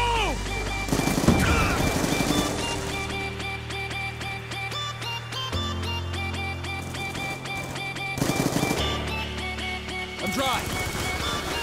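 Halo team deathmatch combat with steady automatic gunfire and bursts of impact noise, including a grenade blast, set under music and game voices.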